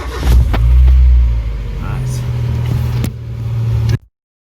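A Mazda MX5 engine idles with a deep steady hum and a brief rev early on, then stalls abruptly into silence after a component is unplugged.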